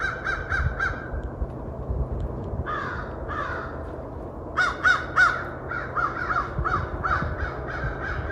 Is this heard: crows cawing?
yes